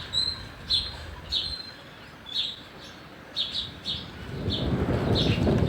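A bulbul at its nest gives repeated short, bright chirps spaced a second or so apart. Toward the end a low, rising rumble like gusting wind builds beneath the calls.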